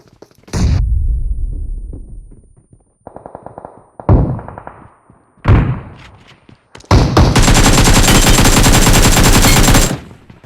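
Gunfire in the mobile battle royale game PUBG Mobile: several loud bursts of automatic fire separated by short gaps, then a sustained rattling volley lasting about three seconds, with no talk over it.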